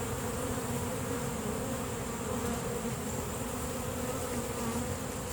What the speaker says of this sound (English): all the forager bees are trying to come back to this stand